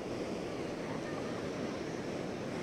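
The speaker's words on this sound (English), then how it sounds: "See the mighty force of the Yellow River." Hukou Waterfall on the Yellow River roars in winter as a dense, continuous wash of crashing water, loud and unbroken throughout.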